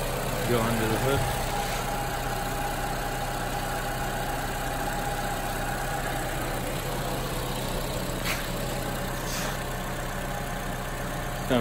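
A 2015 Toyota Camry SE engine idles with the hood open, a steady, even hum that holds at a constant level throughout with no revving.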